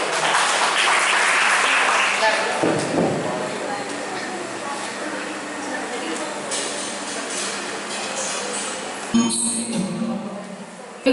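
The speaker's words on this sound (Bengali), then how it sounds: "নন্দিনীর জন্য একটা জোরে হাততালি হোক।" An audience at a Rabindra Jayanti cultural celebration bursts into loud, dense applause for a singer that tapers off over several seconds, with voices and hall noise mixed in.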